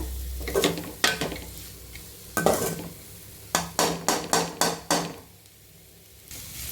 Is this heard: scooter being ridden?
no